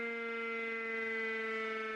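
A WW2-style air raid civil defence siren holds a steady, sustained wail with strong harmonic tones. It sounds distant but fills the whole clip without a break.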